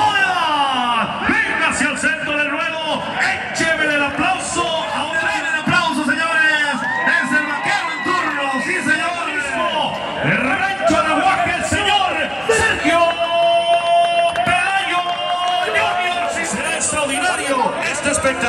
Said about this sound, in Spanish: denle el aplauso, señores,